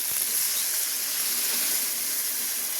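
Water poured into a pan of frying fish and onion greens, setting off a loud, steady, close hiss of sizzling and steam with no voices.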